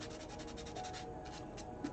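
Quiet, steady sanding, with rhythmic back-and-forth rubbing strokes against a surface.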